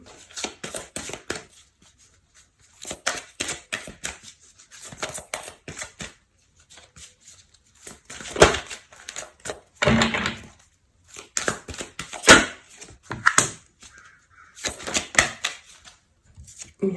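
Tarot cards being shuffled by hand in repeated bursts of crisp riffling and slapping, close and fairly quiet, separated by short pauses.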